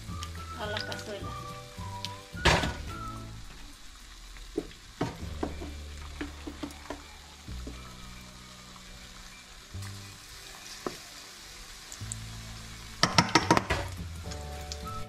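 Egg-dipped pig trotters are lowered into hot oil in a clay cazuela and sizzle steadily. Clinks and clatter from the pot break in now and then, and someone speaks Spanish over the frying.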